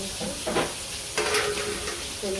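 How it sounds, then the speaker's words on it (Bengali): Food frying in a pan being stirred, a continuous close sizzle with a couple of louder scraping bursts as the spatula moves through it. "নাড়াচাড়া দিয়ে দিই"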